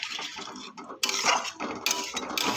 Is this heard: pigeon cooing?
no